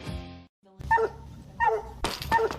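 Several dogs bark in a TV advertisement, with three sharp, close barks in quick succession following a brief tonal sound.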